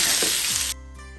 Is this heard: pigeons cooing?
no